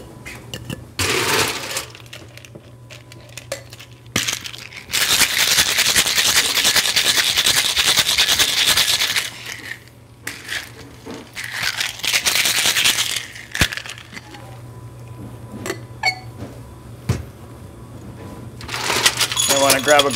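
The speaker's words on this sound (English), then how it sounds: "now we want to shake this up" Gin cocktail being shaken in a shaker, a loud sustained rattling of ice from about 5 to 9 seconds with shorter bursts later, alongside handling clatter and a steady low hum.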